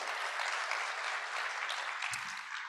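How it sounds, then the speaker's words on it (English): An audience claps at a conference opening session, producing dense, sustained applause that fades slightly toward the end. "Please welcome our guest of honor and everyone with another round of applause."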